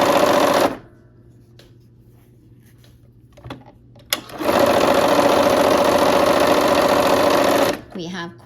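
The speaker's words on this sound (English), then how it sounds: "here I am at the machine. I'm going to sew the 1/4 inch on both sides of those lines." An electric sewing machine stitching quarter-inch seams on a barn quilt sampler block, running in a loud steady whirring burst, stopping for a quiet pause with a few clicks, then running again in a long continuous stretch.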